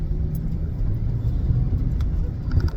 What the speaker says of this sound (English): the truck that I'm driving right now is a manual